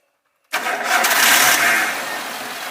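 A fuel-injected light vehicle engine starts abruptly after silence and settles into a loud, close, steady idle, with no voices.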